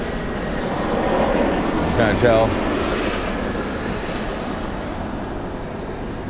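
A low-flying airplane passes over on the flight line in Eagan on a cloudy day, a loud broad roar swelling and holding steady throughout, with a few spoken words briefly underneath.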